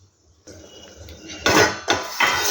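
A metal lid clatters onto a cooking pan of tomato mixture set over a low flame, giving two or three close, sharp metallic clanks after a softer rustle, with no talking.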